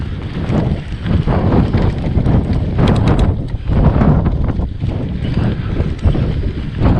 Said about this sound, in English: I've pretty much got the wind behind me now